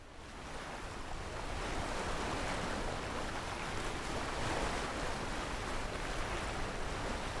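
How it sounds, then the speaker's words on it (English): Ocean waves wash and roar steadily in a sailing simulator game, with real-world weather on a passage from Cardiff to Poole. A dense, continuous surf rush with wind noise runs throughout, loud and unbroken, with no voices. "And the waves get pretty huge as well, pretty enormous."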